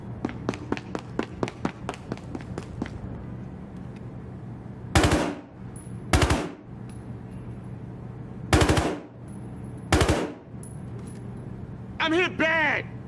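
Gunfire in the Battlefield Hardline video game: a rapid run of sharp shots, then several loud separate blasts spaced about a second apart, followed by a soldier's voice calling out, all close and loud.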